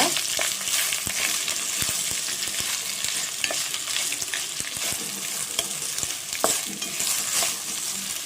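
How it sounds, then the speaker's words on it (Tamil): Okra sizzles in hot oil in a pan, stirred with a spatula, giving a continuous near crackle broken by scraping strokes and light clicks. "வெண்டைக்காவை நம்ம இப்படியே ஆயிலில் நல்லா கொஞ்சம் இதோட இது வதங்குற அளவுக்கு ஆயிலில் நல்லா ஃப்ரை பண்ணிக்கோங்க"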